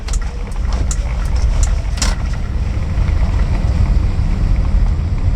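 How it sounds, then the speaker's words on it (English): A 1970 Datsun Cedric G130 Super Six rolls over a brick road in the Netherlands, with a steady, close, rumbling tyre roar and faint wind noise running the whole time and no talking. "So we're on a brick road at the moment, which they seem fond of here in the Netherlands. Means lots of tyre noise"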